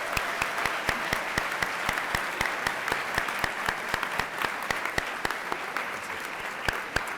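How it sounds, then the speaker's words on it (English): Sustained applause from an audience at a school convocation welcoming new staff members, many hands clapping densely and steadily for several seconds with a few sharper claps standing out. "Please give them all a big round of applause."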